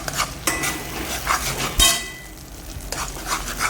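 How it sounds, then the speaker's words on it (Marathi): A masala mixture in oil is stirred in a kadhai, with repeated scraping and clinking of a spoon against the metal pan over a light sizzle, in uneven close strokes. "कढाईमध्ये याला तेल सुटेपर्यंत चांगलं मिक्स करून घ्यायचं"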